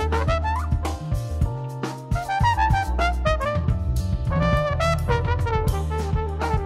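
Bass guitar thumps steadily under a dense full band and orchestra, its low notes pulsing continuously beneath brass and keyboard lines throughout.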